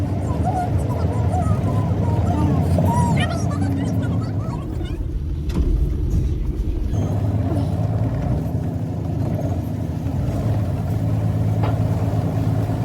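A car engine with heavy crankcase pressure runs steadily and loudly throughout, a constant low drone with some rattling overtones.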